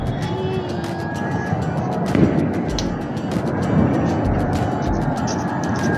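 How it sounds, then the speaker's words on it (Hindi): Distant New Year's Eve fireworks go off over Nainital, India, in a few muffled booms over a continuous outdoor rumble, with voices murmuring in the background. "और साथ ही नैनीताल में आप देखो तो ज़बरदस्त आतिशबाजी"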